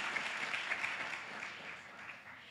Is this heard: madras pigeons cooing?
no